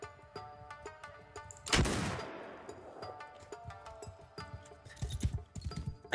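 Gunshots in the samurai-era video game Shokuho, with a single loud close blast standing out amid scattered sharper shots and background battle clatter.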